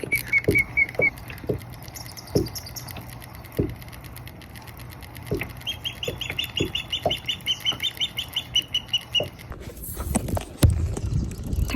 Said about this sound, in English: It's starting to rain, the wind is picking up.